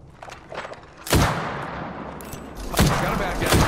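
Rapid bursts of gunfire in the Apex Legends battle royale game, loud and close, with several sharp volleys over a steady din of in-game action.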